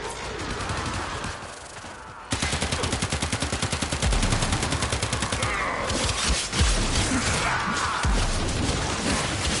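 Rapid automatic gunfire from the Warframe video game rattles in a long, loud burst of evenly spaced shots, with a few heavier bangs, no talk.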